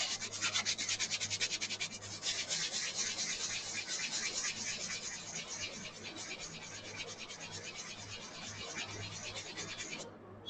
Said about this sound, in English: so let's sand it